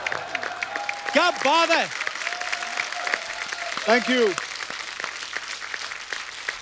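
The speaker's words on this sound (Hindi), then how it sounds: "जोरदार तालियां अक्षय पाजी के लिए" Studio audience applause on a Hindi TV comedy show, a steady bed of clapping heard beneath cheers and people talking over it.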